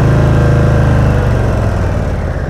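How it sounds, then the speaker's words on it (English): Motorcycle engine idling and lugging at low speed during slow-speed riding practice, a loud, steady low rumble with regular pulsing that sags slightly toward the end, heard alone without talk. "Listen to that engine."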